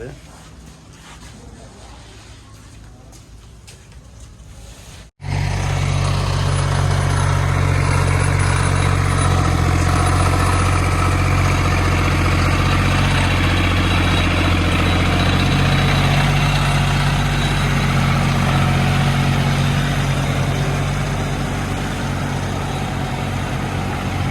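A generator engine cuts in abruptly after a quieter stretch, then runs loud and steady with a deep, constant droning rumble close by.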